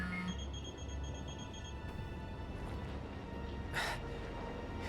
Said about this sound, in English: Isn't that your phone?